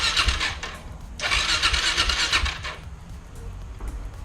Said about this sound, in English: So theoretically, if this cranks, this bike would fire up.